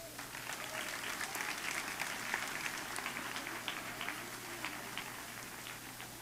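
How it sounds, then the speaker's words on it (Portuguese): A church congregation claps together in sustained, moderately distant applause, a dense crackle of hands with faint voices mixed underneath. "Mais uma salva de palmas."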